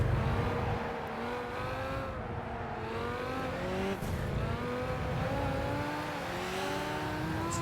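A sports car engine revs and shifts through gears in Gran Turismo 5, a continuous loud racing drone with rising and falling pitch sweeps throughout, no talking.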